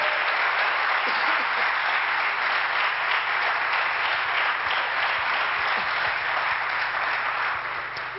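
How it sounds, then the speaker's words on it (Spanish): A church congregation claps steadily and loudly, the dense applause filling the room without pause and tapering slightly at the very end. "Denle un aplauso a Dios"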